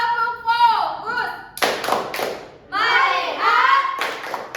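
Indonesian schoolchildren in a group chant a focus clapping routine in unison, broken by bursts of group hand clapping in a rhythmic pattern, loud and close.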